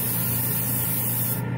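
An aerosol can of primer sprays a smooth, even coat onto a prototype Batman model. A loud, close, steady hiss runs unbroken and cuts off sharply near the end.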